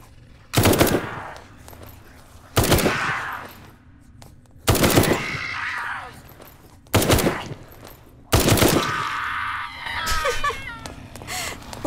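Gunfire from the zombie video game Night of the Dead, five sharp, loud shots spaced about two seconds apart, each with a short ringing tail, the last one followed by scattered clanking.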